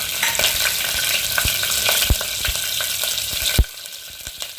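Red chillies hit hot oil as tempering for a red pumpkin curry, giving a loud, steady sizzle broken by sharp stirring taps and a clank before it quiets.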